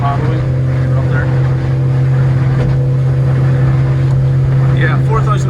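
A Yamaha 100HP outboard motor pushes a Yamarin 59c boat at a fast cruise around 4000 RPM, giving a steady, loud, low engine hum with water and hull noise, unchanging throughout.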